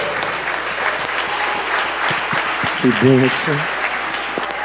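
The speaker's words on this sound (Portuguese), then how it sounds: "Aplauda ao Senhor Jesus" A church congregation applauds during a worship service, a sustained wash of clapping with a voice speaking briefly over it.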